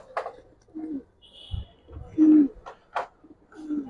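Sabchila Gribaz pigeons coo in low, rounded bursts, a few soft calls spaced across a few seconds with faint background rustle and a brief higher tone.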